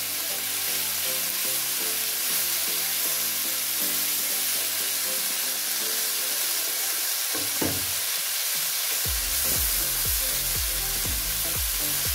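Beef skewers sizzle loudly and steadily in a hot frying pan, with a burst of clattering and shuffling partway through as they are turned and moved about.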